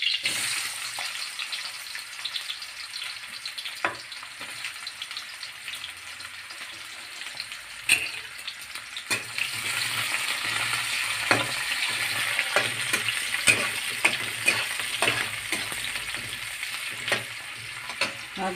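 Grated coconut dry-roasts in a kadhai over a biogas stove, giving a steady sizzling hiss with scattered scrapes and taps of stirring and a constant gas roar throughout, with no voices.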